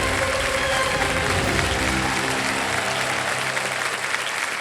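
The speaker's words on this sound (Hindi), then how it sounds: "एक बार जोरदार तालियां बज जाएं उनको।" Thunderous studio audience applause rolls through the KBC game show set, a sustained wash of many clapping hands at constant loudness, with faint music beneath it.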